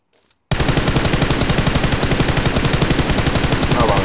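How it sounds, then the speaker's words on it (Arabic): An M4 rifle fitted with a red dot sight fires on full auto in PUBG Mobile, starting after a short silence and then continuing as a loud, rapid, evenly spaced stream of shots to the end. "راح نجرب ارمي بالام 4 على السكوب ابو نقطة."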